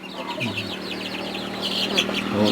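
Twenty-day-old native chicks in a farm pen cheep continuously, a busy overlapping chorus of high peeps at close range with a low background murmur.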